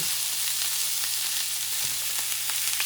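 Bison sirloin steaks fry in a pan, a loud, close, continuous sizzle and crackle with a low hum beneath, no voices.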